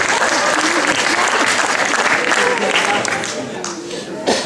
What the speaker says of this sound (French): on va l'accueillir sous vos applaudissements